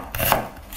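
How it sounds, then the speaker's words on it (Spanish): A knife slices through an onion into half rings, a short close cutting sound with a brief rise in the middle and no talk. "Cortamos en medias rodajas una cebolla"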